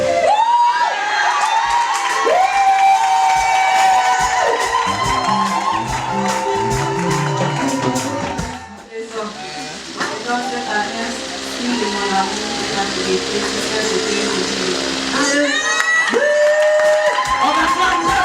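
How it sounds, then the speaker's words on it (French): A church congregation at a wedding ceremony cheers and acclaims loudly, a sustained crowd roar with whoops and high shouts rising and falling, dipping briefly mid-way before swelling again. "On acclame très fort le Seigneur."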